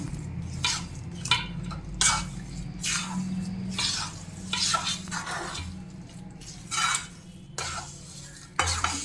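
Jaggery worked into flour for adadiya, a spoon scraping and knocking against a metal pot in irregular bursts of stirring, close and unaccompanied by speech.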